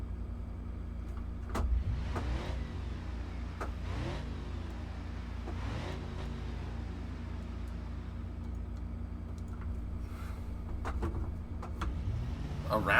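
A Ford Crown Victoria fitted with Chevy Caprice bumpers drives in the BeamNG driving simulator, its engine droning steadily with a few swells of revving and faint clunks throughout.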